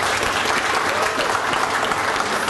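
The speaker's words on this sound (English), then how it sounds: "we do applaud you" An audience at a cancer research exhibition claps loudly and steadily, dense continuous applause from a full room throughout.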